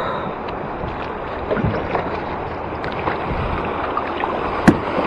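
Ocean waves wash and slosh steadily around a kayak out at sea, forming a dense rushing surge with a few splashes and knocks, under light wind.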